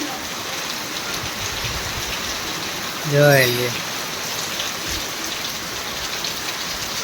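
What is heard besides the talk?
heavy rain falling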